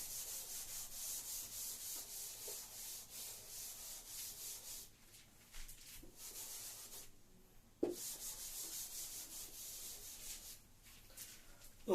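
A board being rubbed clean of writing, a steady soft scrubbing in repeated strokes with short pauses and an occasional light knock, fairly faint and with no talking.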